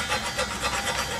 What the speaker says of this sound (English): Old school filing.